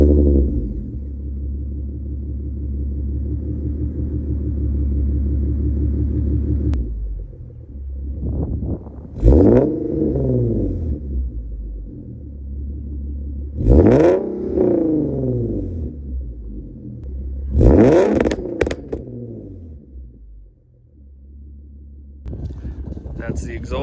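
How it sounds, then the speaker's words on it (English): An Infiniti Q50 with a catback exhaust, MagnaFlow mid muffler and two resonators idles with a deep steady drone, then rises through three or four sharp revs that fall back to idle between each. "That's the exhaust. In my opinion, it sounds great."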